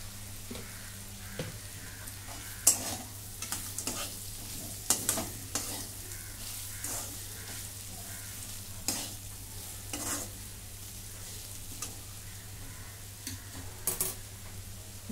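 A spoon stirs bitter gourd sabzi with crushed peanuts in a pan on the stove. Soft sizzling and frying run throughout, broken by scattered scrapes and taps of the spoon against the pan, with no talking.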